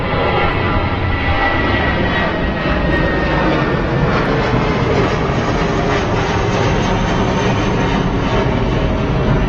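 An Airbus A380 heavy jet at London Heathrow gives a loud, steady, broadband roar that holds for the whole stretch without a break, and no voices are heard.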